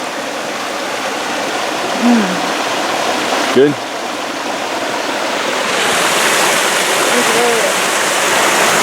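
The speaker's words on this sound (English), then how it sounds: "This is the creek that goes through that camp, the first camp." A creek flowing past a campsite in the San Bernardino Mountains, a constant broadband rush of water close by, with a brief voice and a few birdlike chirps over it.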